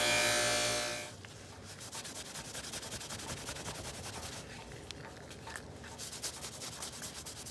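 A cloth buffing wheel spins against the celluloid handle of an antique KA-BAR/Union Cutlery pocketknife using fine blue compound, producing a steady, close rubbing hiss after a louder motor whine at the start.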